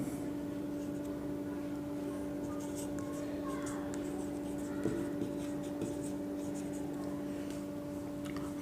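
Pen scratching on paper in quick, intermittent strokes during a chemistry lesson, faint and close, over a steady background hum with a teacher speaking softly now and then.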